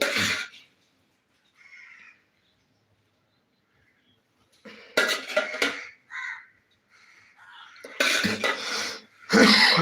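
Several sharp coughs ring out close up in separate bursts, with quiet pauses between them.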